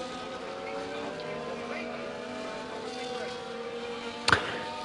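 F1 cars on the formation lap at the Hungarian Grand Prix in the F1 24 video game: a faint engine drone with a brief louder burst near the end, under a commentator's voice.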